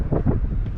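Wind at the top of the Mt Davis observation tower in Pennsylvania, a short, loud burst of low buffeting rumble gusting across the microphone.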